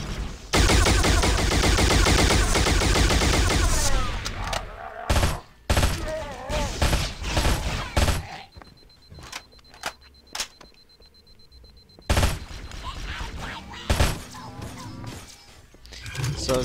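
Loud, sustained automatic gunfire fired at brutes in the Halo SPV3 mod game, a dense continuous burst for several seconds, then scattered single shots and short bursts with quieter gaps between.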